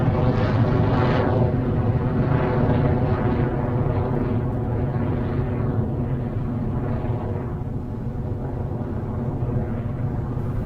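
An Electron rocket's Rutherford engines roar steadily through liftoff, a dense, continuous rumbling wall of sound that slowly thins as the vehicle climbs away downrange.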